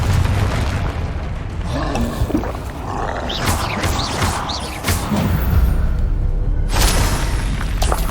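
Confringo spell blasts from Hogwarts Legacy gameplay: a dense, continuous roar of booming explosions and rumbling impacts, with brighter bursts cutting through and no talking.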